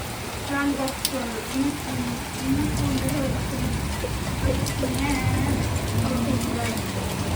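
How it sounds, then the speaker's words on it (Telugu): Heavy rain pouring down outdoors, a dense, constant hiss and patter of drops on surfaces with voices faintly talking underneath. "వెంటనే వర్షం అయితే జోరుగా వచ్చేసింది"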